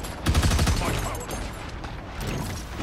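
Gunfire in the video game Marvel Rivals comes as a rapid burst of shots early on, then fainter scattered shots and game effects under a voice speaking.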